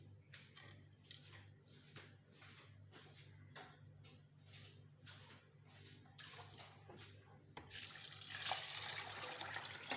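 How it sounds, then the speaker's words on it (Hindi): Water runs into a pot of soaked chana dal for haleem, a steady faint trickling stream that grows louder and fuller near the end, under a low constant hum. "अब इसमें पानी शामिल करेंगे।"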